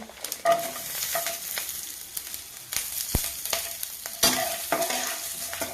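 Cumin and green chillies fry in a pan with a steady crackling sizzle, and several sharp stirring clatters and scrapes punctuate it close up.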